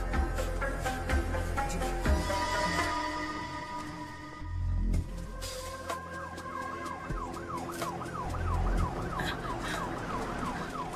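Wailing ambulance siren in a movie scene, its rising and falling tone sweeping steadily over background noise and low rumbles for several seconds, fairly loud and continuous.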